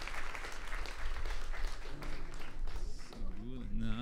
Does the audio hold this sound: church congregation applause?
yes